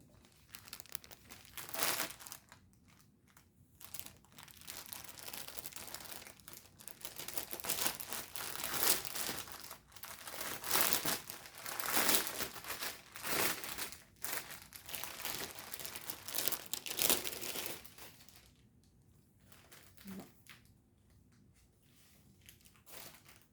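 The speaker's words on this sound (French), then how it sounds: "Fait que là, je vais faire du bruit. Je vais déballer ça." Plastic packaging of a cross-stitch kit crinkled and torn open, continuous rustling and crackling in bursts with brief quiet pauses, close and fairly loud, no talking.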